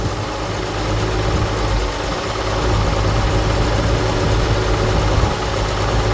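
A 1974 Ford farm-find engine, with a leaking fuel pump, runs steadily at a close, loud idle for the whole stretch, with a dense low rumble and vibration and no voices.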